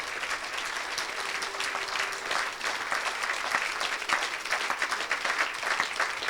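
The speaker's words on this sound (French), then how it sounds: "continue à acclamer" A church congregation applauds at a French-language service, sustained crowd clapping with a steady dense texture throughout, loud and close, no voices over it.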